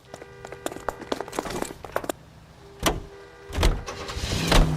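In the L.A. Noire video game, a vintage car's door clatters and its engine cranks to life, followed by bursts of revving and gear noise as it pulls away, with rustling and clicks scattered throughout.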